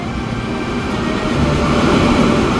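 A train rolls along a railway line in Transport Fever 2, a loud continuous rumble of wheels and cars that swells slightly toward the end, with no talk.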